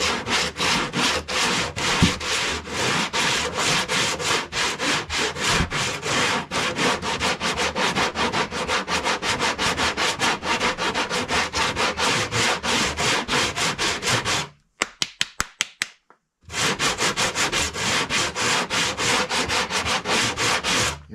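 Soft Bondo body filler is scraped off a car quarter panel with steady rapid rasping strokes. The scraping is close and loud, pauses briefly for a few scattered scrapes, then resumes continuously.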